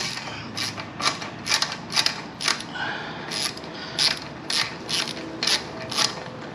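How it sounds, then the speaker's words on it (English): A ratchet clicks in quick repeated runs as it loosens the belly pan bolts on a Z125 motorcycle, the steady clicking bursts close up and clear with no voices. "First you're going to want to take off this belly pan."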